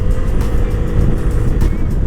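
An FKM Core 188 motorcycle rides through a tight street corner, its engine giving a steady, continuous drone close by, with no talk over it.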